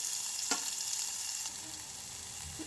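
Curry leaves, ajwain, green chilli and crushed garlic fry in a hot tempering, giving a steady bright sizzle with a couple of soft scrapes from a stirring spoon and no voices.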